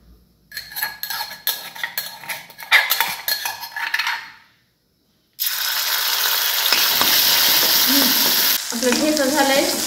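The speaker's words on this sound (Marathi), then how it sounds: "तेल चांगलं गरम झालं की लगेच आपण हे वाटलेले हिरवी मिरचीचा ठेसा टाकायचे।" Ground green chili thecha hitting hot oil in a pan for a Marathi radish vegetable dish: stirring and utensil clatter for a few seconds, a brief pause, then a loud, steady close-up sizzle and fry.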